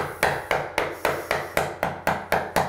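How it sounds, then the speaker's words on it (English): A chisel is tapped into soft wood while French doors are installed, about ten sharp, evenly spaced strikes in a steady rhythm, close and clear with no talking. "Start your chisel as close to the edge as you can. Little taps"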